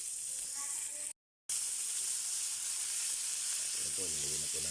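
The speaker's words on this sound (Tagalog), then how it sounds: "Lagyan na po natin yung karne para magisa." Meat is being sautéed in a pan for a Filipino soupy dish, giving a steady, close sizzle and hiss that runs throughout with one brief dropout, plus a short faint voice near the end.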